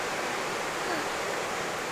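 Dirty stream water flows outdoors beside a potato garden, a constant close rushing wash with no pauses and no talking.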